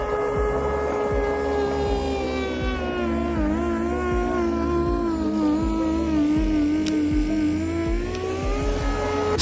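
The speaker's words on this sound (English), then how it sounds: "These mini snowblowers use real augers, impellers, and worm gear transmissions." A mini RC snowblower with a real auger, impeller and worm gear transmission runs its motor in a loud, continuous whine that rises and dips slightly in pitch, close up, with no voices.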